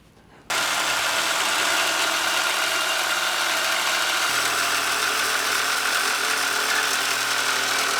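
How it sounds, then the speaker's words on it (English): A Sawzall reciprocating saw starts abruptly and runs at a loud, constant buzzing rasp, cutting through a part on a 2019+ Chevy/GMC 1500 truck during a lift kit install. "we're gonna go ahead and use our Sawzall here"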